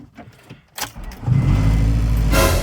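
A 1999 Acura Integra GSR with starter fluid sprayed into the intake, cranking after a couple of faint clicks and then catching into a loud, steady idle close to the microphone.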